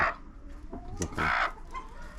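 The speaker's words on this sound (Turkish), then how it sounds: "Evet, gurk. Benim dediğim gurk bu." A broody hen, a sitting bird set on eggs, gives low, throaty clucks close by, a couple of sharper bursts in the middle over a quiet farmyard background.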